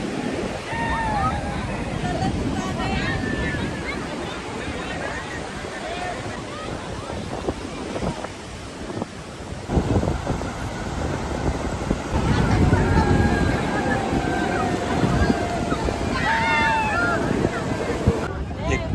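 Waves roll in and wash up at Calangute Beach in Goa as wind buffets the microphone in a continuous roar, with the surf swelling louder in places and faint distant calls over it.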